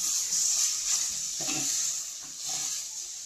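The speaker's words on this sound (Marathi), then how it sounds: "सगळं इथलं कोवरं टाकलं आणि आता ते व्यवस्थित ढवून घेऊ" Kovre vegetable stirred in a pan for a Konkani-style bhaji, the spoon scraping in a few uneven strokes over a steady background sizzle of frying, close and moderately loud, with no talking.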